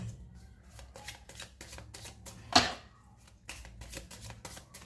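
Tarot cards riffle and snap during a reading, a run of quick papery shuffles with one sharper, louder slap midway, close and quiet, with no talking.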